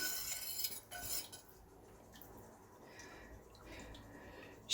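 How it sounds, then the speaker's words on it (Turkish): A spoon stirring milk with salt and baking soda, faint metallic clinks and scraping against the container in a few short bursts, close but quiet, with no talking. "hemen şöyle yarım kaşık kadar da karbonat ekleyip tekrar karıştıracağım"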